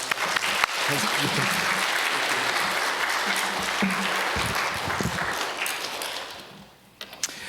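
A church congregation applauds steadily for several seconds as the pastor comes out, dense clapping that tapers off near the end.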